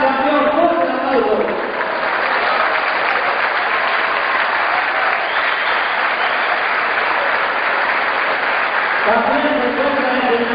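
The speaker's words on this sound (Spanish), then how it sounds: "gran campeón, fuerte aplauso" An audience at a boxing event applauds a grand champion, steady loud clapping lasting several seconds, with an announcer's voice heard at the start and again at the end.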